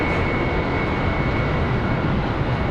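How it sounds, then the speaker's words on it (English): Airbus A319 airliner on departure from Charlotte Douglas airport, a loud, steady engine roar with a sustained whine, no talk. "Next departure, American 3171 off to Daytona Beach, an A319."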